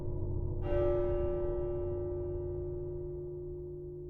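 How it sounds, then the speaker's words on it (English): A single deep church bell strikes twelve, the first stroke coming after a moment of rumble, then rings on with a long, slowly fading hum. "The bell struck 12."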